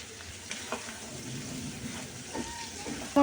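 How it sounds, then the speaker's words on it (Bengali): Prawns frying with turmeric, chili powder and salt in a pan, a steady soft sizzle with occasional stirring scrapes, close and moderately quiet throughout. "ভালো করে কষিয়ে নেব সাথে এবার চিংড়ি মাছগুলো দিয়ে দিচ্ছি"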